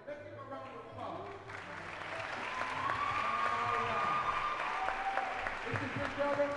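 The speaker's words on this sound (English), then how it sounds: "Let's give her a round of applause." Audience at a high school graduation ceremony breaks into applause that swells and holds steady, with a person speaking over it and faint tonal sounds in the background.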